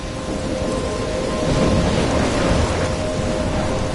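A thunderstorm in the Life is Strange video game, with steady heavy rain pouring on surfaces and a low rolling rumble of thunder swelling midway, dense and continuous with no voices.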